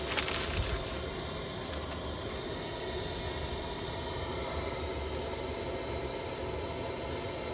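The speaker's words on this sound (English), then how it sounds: "The noise you can hear is obviously the heater going." Heater running inside a camper at night, a steady broadband whooshing hum at low level, constant throughout with a brief rustle at the start, no voices.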